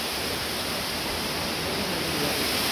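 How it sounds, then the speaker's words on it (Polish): A waterfall in Karkonosze National Park gives a dense, steady roar of rushing water with no breaks, loud and continuous throughout. "Wodospad znajduje się na obszarze Karkonoskiego Parku Narodowego."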